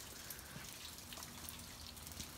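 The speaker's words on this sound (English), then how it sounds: "Mainly a light rain right now at the moment." Light morning rain falls with a soft, steady hiss and faint scattered droplet ticks, quiet and continuous without any talk.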